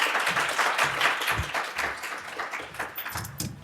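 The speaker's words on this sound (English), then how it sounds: "please give a big round of applause to our first panel." Audience applause for a panel at a health law conference, a moderate patter of many hands clapping, steady and somewhat distant, fading slightly toward the end.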